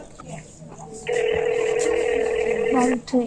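A telephone tone sounds steadily for about two seconds, then cuts off and brief beeps follow, with talking around it.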